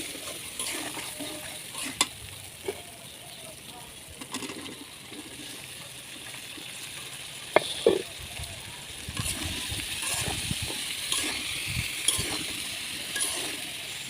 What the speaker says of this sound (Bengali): কেটে রাখা ছোট ছোট যে মাছগুলো ছিল ও পিসগুলো আমি মশলার মধ্যে কষিয়ে নেব